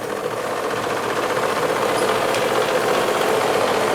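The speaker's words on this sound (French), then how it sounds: "la vapeur qui s'échappe par le pot d'échappement" A live steam model launch (Liva 2 New) pushes exhaust steam out through a small brazed T pipe on the hull, making a steady, loud, fast rhythmic chuffing close by with no talk.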